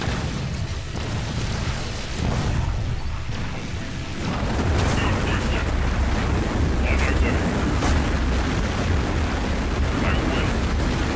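Booming cannon fire and explosions rumble continuously in the Halo Wars 2 video game, loud and dense with heavy low-end blasts and intermittent higher crackles.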